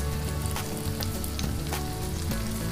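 Dry masala spices drop into hot oil in a pan for prawn masala, giving a steady loud sizzle and frying crackle with small stirring scrapes, heard alone without voices.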